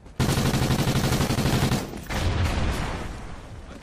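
Heavy sustained gunfire in a shooter video game, a loud, dense roar of rapid automatic shots that begins suddenly and pounds on, shifting into a second burst before fading slightly.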